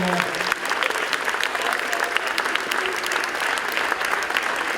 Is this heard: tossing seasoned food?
no